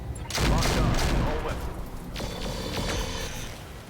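Mech weapons firing in the RogueTech mod of BattleTech, a loud cluster of booming shots and rapid bursts up front followed by further thuds and a rumbling tail.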